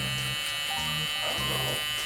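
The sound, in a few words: Evo hair clippers cutting a taper fade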